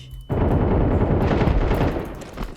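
Rapid automatic gunfire in a shooter video game, a dense loud burst of shots that starts abruptly and runs for about two seconds before tapering off, with no voices.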